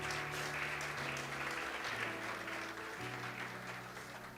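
Congregation applauding during a church sermon, a steady wash of clapping over sustained organ or keyboard chords that shift pitch every second or so.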